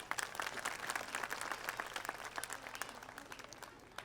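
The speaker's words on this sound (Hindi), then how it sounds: "ताली बजा दीजिए एक बार।" An audience at a school annual function claps in a scattered but continuous burst, with individual sharp claps standing out, heard faintly and from a distance before tapering slightly.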